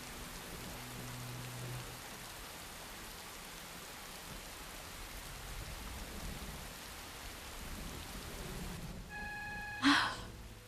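Rain falling outside during a scene from an Iranian drama series, a soft, even hiss throughout, with a brief louder tonal sound near the end.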